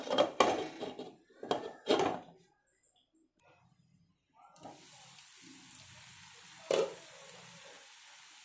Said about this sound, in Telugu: ఒకసారి మూత పెట్టేసుకుందాం మళ్ళీ.